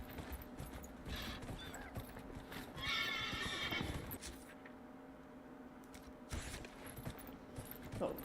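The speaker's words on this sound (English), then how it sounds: "Along with horse noises." A ghostly stag-like horse mount in the fantasy game Dragon Age: Inquisition whinnies loudly over clip-clopping hooves, with a steady background hum and a second neigh near the end.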